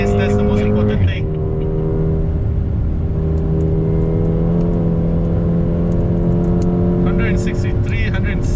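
Mercedes-AMG A35 hatchback, Malaysian-built, accelerating hard around Sepang circuit, its engine note climbing steadily under continuous in-car talk, with a brief upshift dip near the start.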